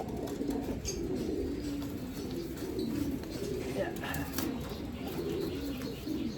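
Pigeons coo softly in a coop with low, rolling calls, faint chirps and some wing flapping, while someone speaks nearby over the birds.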